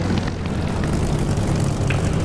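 Steady engine drone of an aircraft in the DCS flight simulator game, a constant loud low hum with propeller-like tonal layers, holding level throughout with no talk.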